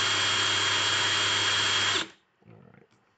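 A power drill whirs loudly and steadily for about two seconds, then cuts off abruptly, followed by a short, faint rattle.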